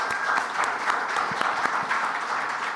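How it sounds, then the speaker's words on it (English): Audience applause for a conference panel on forest governance and climate finance, steady dense clapping filling the room throughout, with no voices over it. "Huge round of applause for this first panel"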